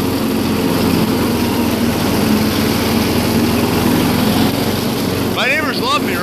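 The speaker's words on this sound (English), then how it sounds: "this is what happens when you mow with a lawnmower with a blown head gasket" Loud, rough lawnmower engine with a blown head gasket running steadily up close while mowing, with a ragged sputtering drone; a voice briefly sounds near the end.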